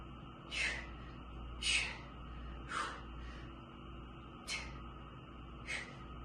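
Sharp, breathy exhalations during a bicep curl exercise with weights, five forceful puffs of breath spaced about a second apart, close and fairly quiet over a low steady background hum.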